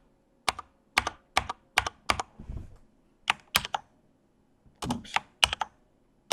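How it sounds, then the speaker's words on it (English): Password keys tapped on a computer keyboard in short, close clusters of sharp clicks with pauses between them, and a brief spoken word near the start. "so I'll type it in again."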